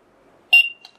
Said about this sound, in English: The chime beeped.